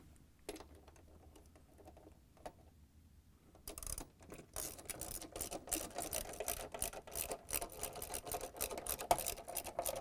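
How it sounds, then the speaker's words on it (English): A 10mm socket wrench tightens the bolts on the stator of an LG/Kenmore front-load washer. Quiet handling at first, then a steady run of rapid ratcheting clicks up close. "Using the 10mm socket wrench, tighten the bolts up."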